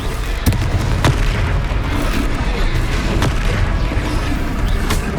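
Confringo spell blasts in the video game Hogwarts Legacy land as loud, repeated booming explosions with sharp bursts over a dense, rumbling battle background.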